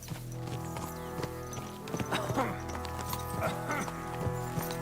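Horses clip-clop in the medieval role-playing game Kingdom Come: Deliverance II, several sets of hooves steady and close, set against a sustained musical score with occasional brief voices.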